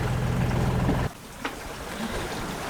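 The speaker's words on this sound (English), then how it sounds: "the engine seems to be running alright" A sailboat's engine runs steadily at sea, a broadband mechanical drone with a low hum, briefly dropping before resuming at a constant level.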